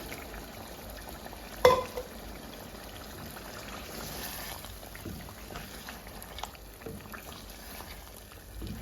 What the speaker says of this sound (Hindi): मैं इस पर पानी डाल रही हूँ क्योंकि मुझे ग्रेवी वाला खाना है खाना।